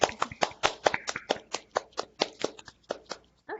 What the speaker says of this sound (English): I guess now is the time to unmute yourself and clap for Rachel's talk